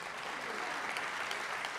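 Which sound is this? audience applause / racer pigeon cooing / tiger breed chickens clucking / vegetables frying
audience applause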